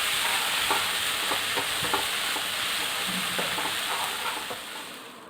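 Mushroom masala with tomato sautéing in a pan, a steady close sizzle broken by irregular scrapes and stirring knocks of a spoon, continuous for several seconds and fading slightly at the end.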